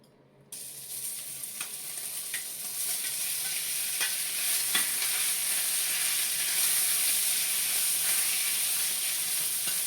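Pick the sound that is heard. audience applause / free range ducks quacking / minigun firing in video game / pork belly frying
pork belly frying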